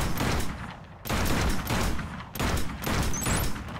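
Sniper rifle shots in Killzone Shadow Fall, a few loud cracks spaced about a second apart, each trailing into a dense rumbling barrage of game combat noise.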